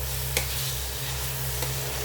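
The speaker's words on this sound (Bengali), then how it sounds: "এইবারে আমরা একটু নাড়িয়ে চাড়িয়ে এই যে কড়াইয়ের" Spice paste being stirred in a wok, with a low steady sizzle and two brief scrapes of the spoon against the pan.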